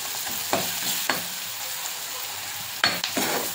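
Spices with turmeric and salt are stir-fried in a pan with a steady sizzle, and a spatula scrapes and taps several times in irregular strokes.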